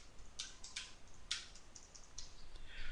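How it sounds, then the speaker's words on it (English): Computer keyboard keys being typed in short bursts of close, crisp clicks with brief pauses between, alone with no voices, over a faint steady room hiss. "I'll just type it out"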